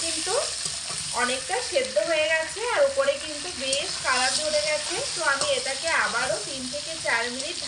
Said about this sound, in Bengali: ঢাকা চাপা না দিয়ে মিডিয়াম আছে আর একটু লাল করে ভেজে নেব